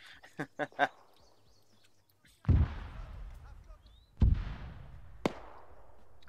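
Artillery ranging shots in the military game Arma 3, a few sharp cracks followed by two heavy booming impacts with long rumbling tails and a final sharp report, spaced apart and fairly distant.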